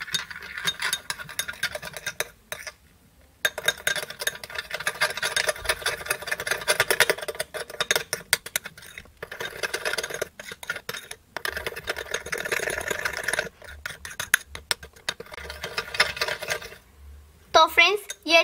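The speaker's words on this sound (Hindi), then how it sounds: "अब हम इन तीनों चीजों को अच्छे से मिक्स कर लेंगे।" A spoon stirring shampoo and lemon juice in a bowl, with close, busy clinks and scrapes in bursts, broken by short pauses.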